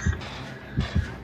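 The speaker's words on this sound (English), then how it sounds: "I'm hearing the heartbeat, I'm waiting for the heartbeat to go away." Heartbeat warning in the survivor horror game Dead by Daylight: three deep, thudding low pulses, the first alone and the next two as a close double beat, over a steady faint hum.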